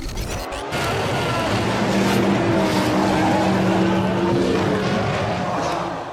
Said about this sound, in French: il heurte la Toyota de Trulli et part dans une spectaculaire embardée